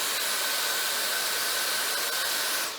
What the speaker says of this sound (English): This is one of the Dyson handheld vacuum cleaners